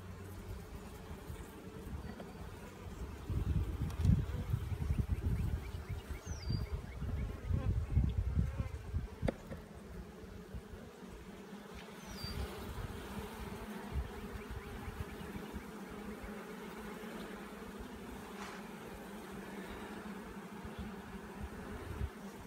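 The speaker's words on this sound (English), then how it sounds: "These are nice, gentle bees." Honey bees from a swarm trap colony buzzing during a hive inspection, a steady faint drone with louder, closer swells of buzzing as bees fly near, a few brief clicks and no talking.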